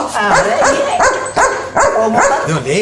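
A dog barks repeatedly in a quick, irregular rhythm, loud and close, in a comic scene with people around.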